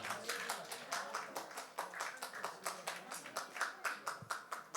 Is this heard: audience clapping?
yes